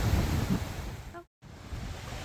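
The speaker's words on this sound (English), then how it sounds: "I think that's why it's windy." Wind gusting across the shore at Silver Lake on the June Lake Loop in fall, a rough rushing roar buffeting the microphone, with a brief cut to silence midway before it returns.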